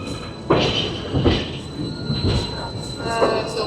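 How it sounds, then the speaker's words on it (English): Cogwheel train wheels squeal on the rails at a Swiss mountain station, sharp high-pitched screeches rising in several bursts over a steady rumbling carriage noise, loud and close. "Cogwheel train coming, getting ready to take us up the mountain"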